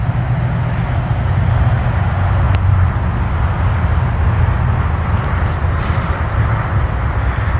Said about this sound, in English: Making some more progress with the grinder,